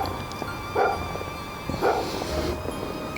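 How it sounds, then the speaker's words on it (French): A dog barks twice outdoors in snow, muffled and somewhat distant, over a steady background hiss and hum. "la neige ne fait pas taire le chien."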